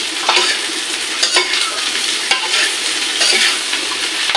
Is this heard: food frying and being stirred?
yes